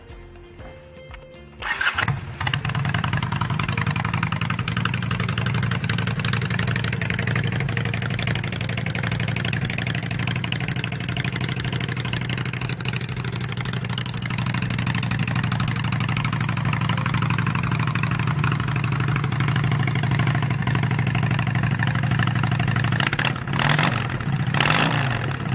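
A Honda VLX cafe bobber motorcycle cranks and fires up, then settles into a steady, loud, throbbing idle that runs for over twenty seconds with a brief throttle blip near the end.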